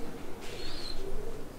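A racing pigeon coos softly, a brief low murmuring call at close range over faint background noise, with a short higher chirp partway through.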